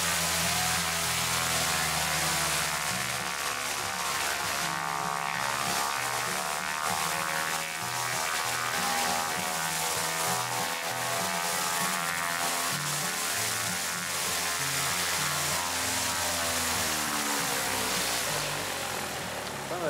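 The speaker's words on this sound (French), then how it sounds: "Bon, on a un avion qui arrive, c'est un avion suisse." A Swiss light propeller aircraft arrives at a winter mountain airstrip during a mountain pilots' air meeting in the Dévoluy, producing a loud, steady engine drone with a buzzing propeller note that holds for the full twenty seconds, without speech.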